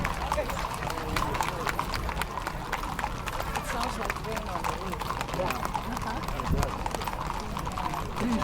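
Rhythmic hoofbeats of ridden horses in a street parade at Fiesta de los Vaqueros clip-clop steadily at a moderate pace, fairly close, with people talking and general outdoor bustle layered over them.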